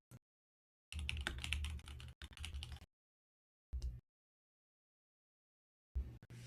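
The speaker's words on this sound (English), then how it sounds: "I'm sitting here typing Z" Keys on a computer keyboard are typed in several quick bursts separated by silent pauses, close and fairly quiet, with no voices.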